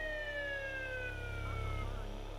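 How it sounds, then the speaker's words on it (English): Police sirens wail in a video game, several overlapping tones sweeping steadily over a low engine-like rumble, loud and continuous throughout. "Yeah, I hear sirens"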